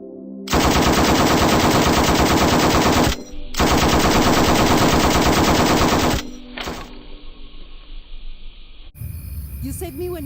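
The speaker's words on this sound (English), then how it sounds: "Have they got the machine gun from the street, or is it another one?" A machine gun fires two long sustained bursts, loud and close, with a short gap between them, followed by quieter rustling and a brief voice near the end.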